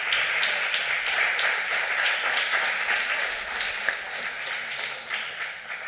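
Listeners at a summer university course give sustained applause for a recording technician, a dense, even clatter of many hands at steady volume throughout.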